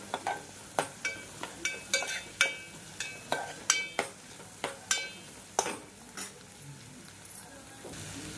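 Sweet corn sautéed in oil in a pan, with a soft sizzle under a rapid series of about fifteen sharp scraping stir strokes, close and steady, without talk.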